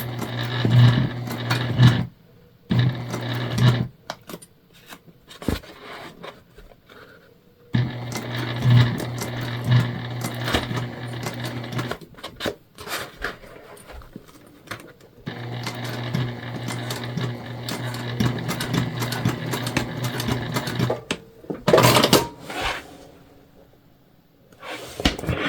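A domestic sewing machine stitches a fabric gift bag through bulky layers, running in several sustained motor bursts with short pauses between seams, fairly close and loud.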